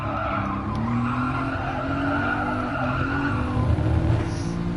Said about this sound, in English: Quick braking to get around this turn right here.